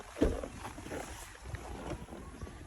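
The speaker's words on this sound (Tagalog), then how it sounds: "Ang lakas ang hangin." Strong wind gusting outdoors, roaring as broadband rumble and buffeting on the microphone, steady through the short clip with a brief louder gust near the start.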